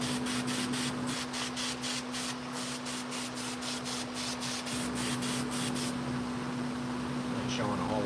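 An airbrush hisses steadily as it sprays orange paint over red on a chainsaw carving, broken into short rhythmic bursts at first and then a longer continuous spray, with a constant steady hum beneath.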